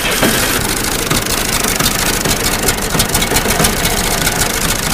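An agricultural tractor engine runs at a steady, loud, rumbling idle close by, a dense continuous chug with no pauses and no voices.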